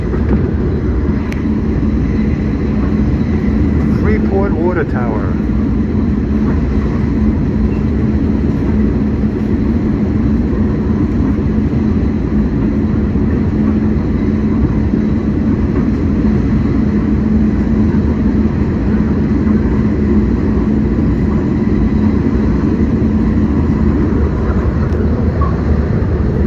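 An LIRR express train runs toward Freeport, heard as a loud, continuous rumble and hiss from onboard that holds steady for the whole stretch, with a voice speaking briefly near the start.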